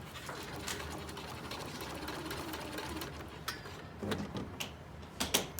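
A home sewing machine back-stitches the top of a lapped zipper along a narrow eighth-inch fold, whirring faintly and steadily with a few sharper mechanical clicks and knocks toward the end.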